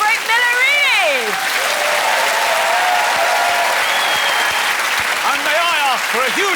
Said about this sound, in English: Ladies and gentlemen, can we please give it up for the great Millerini?